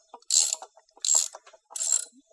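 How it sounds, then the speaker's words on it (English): Ratchet socket wrench turning a bolt on a Toro TimeCutter MX 4260 mower wheel, three short bursts of quick metallic clicking with brief pauses between. "I'm using a regular socket set."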